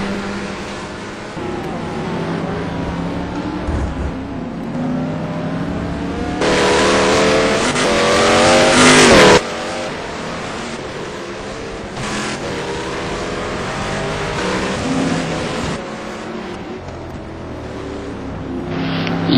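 A race car engine in a racing video game covering the STC Blue Cup at Trois-Rivières drones loudly and steadily, rising into a sharp, louder revving burst midway before settling back to a continuous hum, with no talk.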